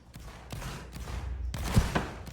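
Musket volley fire in a multiplayer Napoleonic-era line battle game, with several loud, broad cracks and bursts spread across a couple of seconds over steady background rumble.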